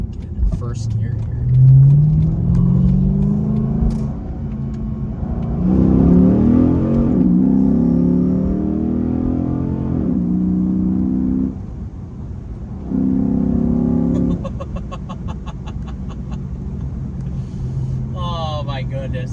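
A Chrysler 300 SRT8 accelerates hard in first gear, its deep V8 rumble rising in pitch through several loud surges with brief drops between them, heard from inside the car while a voice talks over it.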